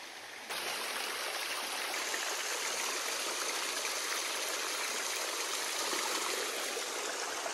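A mountain stream in the Slovak mountains flows close by, a loud, steady broadband rush of water that starts abruptly and then holds evenly with no pauses and no speech.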